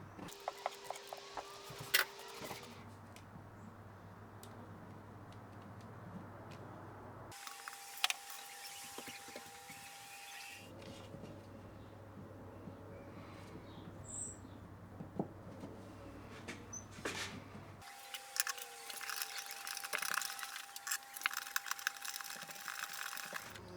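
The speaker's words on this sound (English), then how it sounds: "now I'm tightening with the wing nuts." Small metal wing nuts being turned down on a guitar bridge during setup, giving faint, irregular ratcheting clicks and scrapes at close range over a low hum, with no talking.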